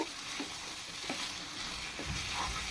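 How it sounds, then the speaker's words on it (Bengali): Small new potatoes, already fried, are stirred with spices in a pan for a dry potato curry, giving a steady close sizzle with scraping stir strokes; no one speaks. "এখন এটা আরও আমি দু থেকে তিন মিনিট আলুর সাথে খুব ভালোভাবে মশলা কষিয়ে নিব"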